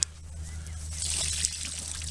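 Water pours from a bottle in a steady, soft trickle and splash outdoors near a creek, with a low background hum and no talking.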